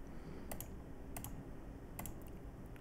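Faint keystrokes on a computer keyboard, small clustered clicks typed in a few quick bursts about every second or so over a steady low hum, with no talking.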